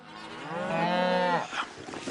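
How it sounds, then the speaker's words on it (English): Cattle in a Colorado pasture give one long, loud, close moo that rises and holds, then breaks off into softer rustling and a brief grunt. "Those are Okay. some happy cows."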